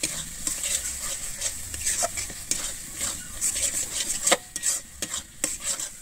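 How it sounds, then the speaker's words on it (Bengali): Spatula stirring cashew and melon seed paste in a hot frying pan, quick scraping strokes and clinks against the metal over a soft sizzle, close and fairly loud, with no speech. "কাজু আর চালমগজ বাটাটা দিয়ে কিন্তু খুব ভালোভাবে এখানে নেড়ে নেবো"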